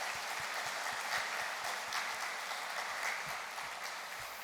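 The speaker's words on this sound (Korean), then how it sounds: "하나님이 하셨다고 영광의 박수 한번 드립시다" A congregation at a Korean Sunday worship service marking the church's 56th anniversary gives a sustained round of applause. It sounds faint and somewhat distant, a dense, even wash of clapping without speech.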